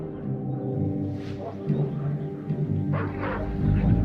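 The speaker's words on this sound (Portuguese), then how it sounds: "já se formou uma população de cães ferozes que andam ao redor dos vulcões pequenos e até atacam animais silvestres" Feral dogs roaming near Mexico City bark and yip in short bursts, fairly close and loud, over a rumbling outdoor background.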